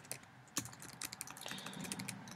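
Typing on a computer keyboard gives quick, quiet clicks of keys in an uneven, close-up run with no talk.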